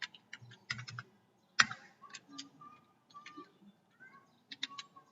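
Quick bursts of keystrokes clatter on a computer keyboard while a nested IF formula goes into an Excel cell, the irregular clicks close and fairly quiet with short pauses between them.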